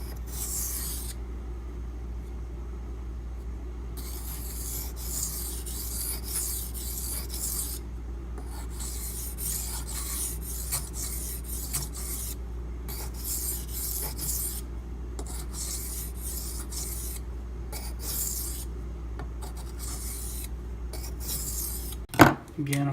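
Knife blade drawn across a whetstone in alternating light-pressure passes, a steady series of soft rasping strokes with brief pauses between them, heard close and alone over a low hum, ending in a short clunk.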